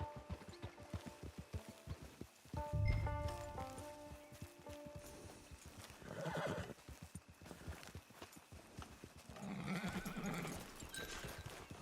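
Horse neighing with a loud whinny, followed by repeated hoof clip-clops in the open-world western video game Red Dead Redemption 2, with game music and ambience beneath.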